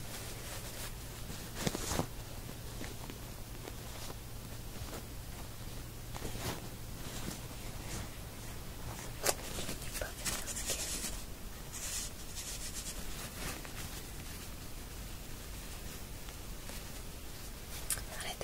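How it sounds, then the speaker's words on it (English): Close, soft rubbing and papery scuffing as a tissue wipes across a face during a spa facial roleplay, continuous with irregular swipes and occasional louder strokes, quiet throughout. "Now if I wipe that off with the tissue."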